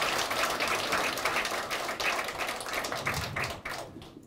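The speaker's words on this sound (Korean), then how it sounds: "제가 박수 한번 부탁드리겠습니다." Audience applause at a Korean political party members' meeting in Daegu, a dense spatter of hand claps filling the room for a few seconds before tapering off at the end.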